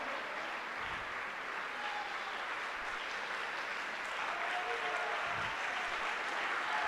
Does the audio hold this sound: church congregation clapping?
yes